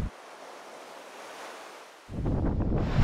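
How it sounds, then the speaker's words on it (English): Strong wind buffets the microphone on a coastline, with ocean surf rushing in; a steadier wind hiss gives way to louder, rougher gusts and breaking waves near the end. "it is crazy how windy it is"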